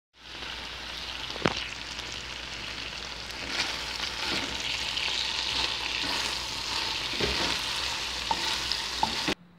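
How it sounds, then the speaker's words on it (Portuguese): Meat seasoned with garlic, salt and pepper frying in a pan, a steady close sizzle and crackle running throughout with a few sharp pops and light stirring clicks, no voices. "Então eu vou fritar ela aqui agora."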